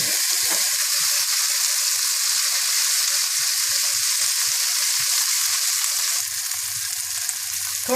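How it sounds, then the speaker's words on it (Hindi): Ginger garlic paste sizzles in hot oil with whole white cumin and lightly browned onion for tarka dal, a steady, bright frying hiss with small pops and faint stirring scrapes throughout. "और पिसा हुआ अदरक लहसुन डाल दें और थोड़ा सा भून लें"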